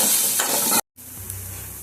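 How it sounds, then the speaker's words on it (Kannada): Onions and curry leaves frying in hot oil, a loud close sizzle with stirring that cuts out abruptly, then returns more quietly with a low hum. "ಆಮೇಲೆ ಈರುಳ್ಳಿ ಇದನ್ನು ಚೆನ್ನಾಗಿ ಫ್ರೈ ಮಾಡ್ಕೊಳ್ಳೋಣ."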